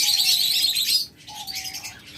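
Pet breeding-pair birds chirp in a lively burst of bright, high calls, pausing briefly before a second run of chirps, fairly close and with no talk.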